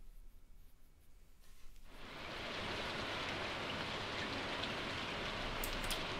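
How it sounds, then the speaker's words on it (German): Steady rain in the video game Stardew Valley starts suddenly and becomes a dense, even hiss of falling drops that continues uninterrupted, fairly soft and with no talking over it. "Ich glaube, es regnet."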